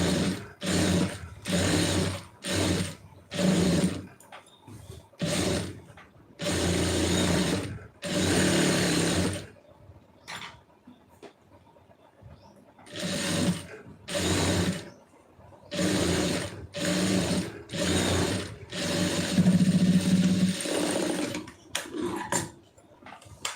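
A sewing machine stitching a blouse shoulder seam runs in repeated loud bursts of a few seconds each, a steady whirring hum broken by short pauses, close and alone.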